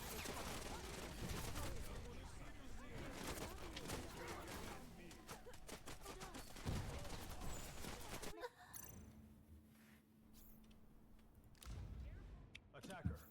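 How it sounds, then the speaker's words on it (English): Sustained automatic gunfire crackles through a firefight in the shooter game Wild Assault, a dense run of rapid shots that breaks off into quieter scattered sounds, with a player talking and sighing throughout. "Friends are taking fire."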